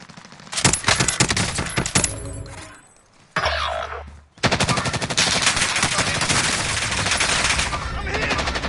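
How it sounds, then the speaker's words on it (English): Dense automatic and rapid gunfire in a PS4 first-person shooter, loud and close, with rattling bursts nearly throughout and a brief lull in the middle. "They're shooting."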